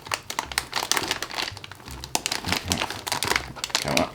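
A new motherboard being pulled from its firm cardboard and plastic packaging, with dense, close crinkling and rustling bursts that continue steadily throughout, loud and busy.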